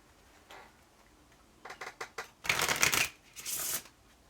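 Cards Against Humanity cards shuffled by hand, with a few quick riffling bursts building into a louder, sustained card riffle and a second shuffle, near and clear with no talking.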